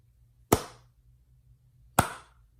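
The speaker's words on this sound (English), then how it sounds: "So there it took a hand clap to start it." Two sharp hand claps about a second and a half apart, each a loud, crisp snap with a short decaying tail over a faint steady hum, used to trigger a sound-activated timer set at a 0.1 threshold.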